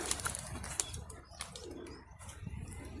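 Pigeons at a rooftop loft in rural Punjab, with soft cooing and brief wing flaps scattered over steady low outdoor noise and distant rumble, fairly faint and unhurried.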